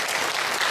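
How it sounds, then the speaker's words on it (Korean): Church congregation clapping during a Sunday worship service, a brief burst of dense, continuous applause filling the room. "박수 한번 쳐주세요."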